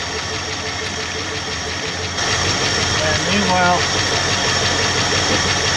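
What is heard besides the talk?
1966 Ford Mustang engine running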